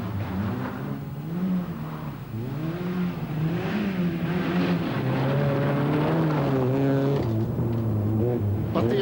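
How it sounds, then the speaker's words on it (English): Vauxhall Astra rally car at the 1991 Lurgan Park Rally, driving with braking problems; its engine rises and falls in pitch continuously, loud and close, with revving surges and no break. "Donald Bones seems to be having braking problems in his Astra."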